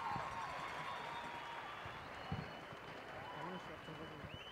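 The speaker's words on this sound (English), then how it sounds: "And listen to the crowd." Steady roar of a crowd at a high school boys' soccer game, with scattered clapping and cheering at the end of the first half, one brief louder burst partway through.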